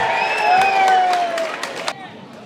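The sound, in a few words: football crowd cheering after a hat-trick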